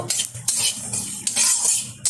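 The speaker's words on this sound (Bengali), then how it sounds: "কালো জিরেটাও কিন্তু শুকনো খোলায় ভেজে নেব" Black cumin seeds dry-roasting in a hot pan with no oil, stirred with a spoon: a dry rattling scrape with a few louder sweeps, close and continuous, no voices.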